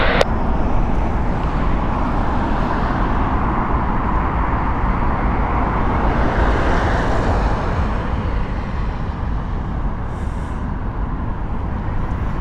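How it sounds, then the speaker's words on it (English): A British Airways Boeing 787-8 at Heathrow Airport fills the scene with a loud, steady jet roar that holds at an even level throughout, broad and rumbling, with no one speaking. "This is a 787-8 from British Airways."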